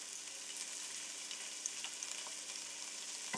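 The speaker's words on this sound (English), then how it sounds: "Fry for a few minutes until the onions starts to change its color." Chopped onions and green chilies fry in hot oil for vermicelli upma, giving a steady, close sizzle that stays even throughout with only faint stirring clicks and no talking.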